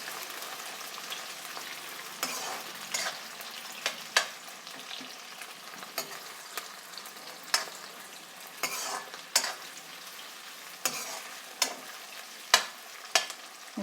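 Onions and green chillies fry in hot oil, a soft steady sizzle broken by regular clinks of a spatula stirring against the pan, up close.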